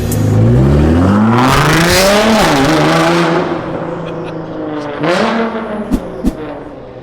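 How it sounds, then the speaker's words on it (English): A Porsche 991 GT3 RS pulls away hard, its loud, high-revving engine climbing through gears as it drives off, then fading into the distance with a few faint pops near the end. "Holy crap, that car is loud."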